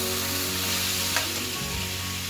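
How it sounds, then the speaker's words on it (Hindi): Chicken karahi with green chillies and ginger fries in a pan. It gives a steady, close, crackling sizzle with faint stirring sounds throughout. "बस हम इसको अच्छा सा भूनते रहेंगे"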